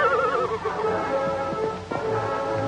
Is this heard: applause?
no